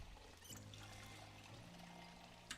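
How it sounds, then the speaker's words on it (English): Water pouring steadily into a container in Project Zomboid, a continuous trickling stream for a few seconds over a low background hum, with a small clink near the end. "fill up on water while we wait."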